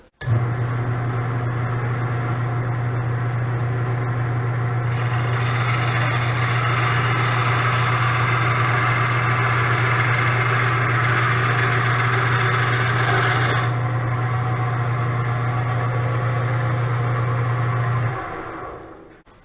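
An old Beaver Rockwell 3400 wood lathe runs with a steady, loud motor hum and a strong low drone, mixed with broadband whirring as it spins, then winds down at the end.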